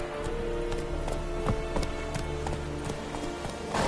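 Roach, the horse in The Witcher 3, gallops with rapid, rhythmic hoofbeats over a steady background hiss like rain. The hooves sound close and fairly loud for the whole stretch.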